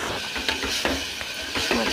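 Sprouted moth beans cook in a pan for pulav, a steady close sizzle with scraping stirs and light clinks from the utensil every few moments.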